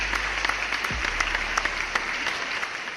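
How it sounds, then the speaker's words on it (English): A small group claps for several seconds in a casual basketball discussion setting, brisk, close, steady applause with no voices over it. "Clap it up for that."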